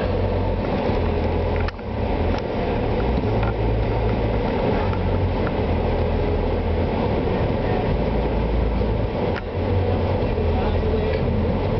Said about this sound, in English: Elevator going to the rock.